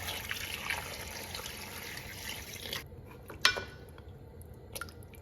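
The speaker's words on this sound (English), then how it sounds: "Add 3 liters of water." Water pours steadily into a big stock pot holding 1.5 kilograms of cleaned beef trotters, then stops abruptly, leaving a few scattered drips and small splashes.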